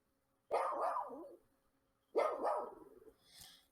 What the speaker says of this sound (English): a dog, a big black and white dog, ran past me